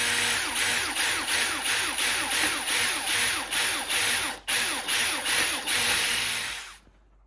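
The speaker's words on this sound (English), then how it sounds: "Now I'm going to drill those keel screw holes through the oak blocks that we mounted." A power drill whirs loudly and close in short repeated bursts, drilling screw holes through hard oak blocks with a steady pulsing rhythm before stopping.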